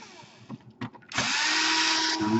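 A power drill removing screws from an Asus laptop during a repair, with a few soft handling clicks first and then a loud, steady, close whir that runs for over a second and shifts pitch slightly near the end.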